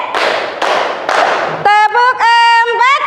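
A group claps in rhythm, three broad bursts of clapping spaced about half a second apart, then a loud sung or chanted voice takes over.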